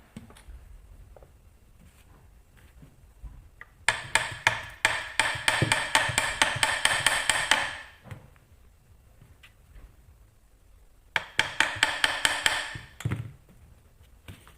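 Hammer tapping on a Yx140 pit bike engine with a jammed kickstart and sprocket, two runs of quick, light, rhythmic metallic taps close by, separated by a quiet gap.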